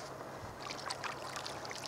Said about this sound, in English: except for that boat you can hear in the background